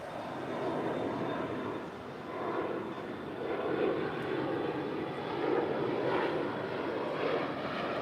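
An Alaska Airlines Boeing 737 MAX 9 in Orca livery, flight 546 to Newark, departs LAX with a steady, sustained jet roar that stays fairly constant and swells slightly in places, with no voices.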